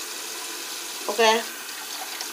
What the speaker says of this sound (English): now I'm about to pour some water in here